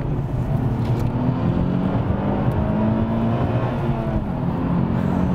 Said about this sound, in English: Now that engine, it is so smooth, so refined, and when you give it a bootful,